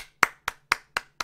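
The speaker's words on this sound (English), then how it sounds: "That's me applauding myself." One person claps five times alone at an even, unhurried pace, each sharp smack close and distinct with brief silence between.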